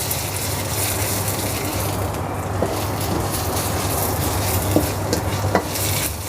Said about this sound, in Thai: ผัดให้หอมเลยค่ะ